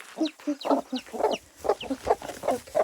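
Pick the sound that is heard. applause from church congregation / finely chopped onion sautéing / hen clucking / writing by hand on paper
hen clucking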